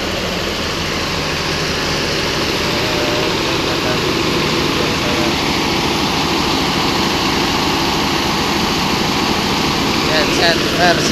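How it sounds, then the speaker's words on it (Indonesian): Genset engine of a sound-system rig at a village celebration in Ganjaran, Gondanglegi, running as a loud, steady rumble throughout, with no voices over it. "Ini untuk gensetnya ya."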